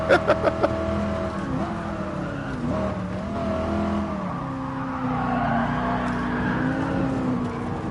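A Porsche Black Series engine on the Nurburgring, heard from inside the car: a few sharp rev blips, then a loud, sustained engine drone whose pitch rises and dips through the gears.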